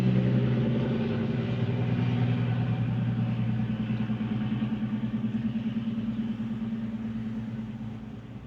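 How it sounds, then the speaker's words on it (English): A loud truck rumbles past on the road, its deep engine drone strong and steady throughout before slowly fading as it moves away. "Oh, that's a loud truck."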